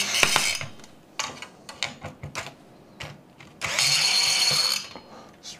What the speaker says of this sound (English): We're gonna unscrew the CPU fan.